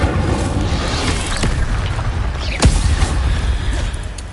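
The Incendio fire spell being cast in Hogwarts Legacy: a loud, dense rumbling whoosh with sharp cracking bursts and a booming impact near the middle, mechanical creaks threaded through.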